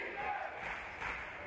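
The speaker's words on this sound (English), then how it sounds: "As the crowd urges defense" Basketball arena crowd chanting and roaring to urge defense during a men's college game, a steady dense wall of voices filling the short stretch with no break.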